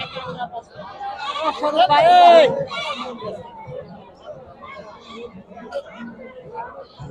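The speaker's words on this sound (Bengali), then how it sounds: "কত ছাগল" A goat lets out a loud wavering bleat amid a crowd's chatter and background babble at a goat market, with fainter animal calls further off.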